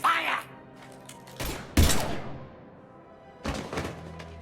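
Gunfire from the video game Mass Effect 3 comes as a few heavy, thudding bursts with scattered shots between them, loud and close, and game voices or speech are mixed in.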